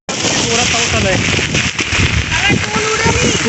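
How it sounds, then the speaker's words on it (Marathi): Heavy rain drumming down in a village near a river, a loud dense patter with scattered splashes, with voices heard in the background. "आता पाऊस थोडा थांबून खूप जोरात आला आहे पाऊस"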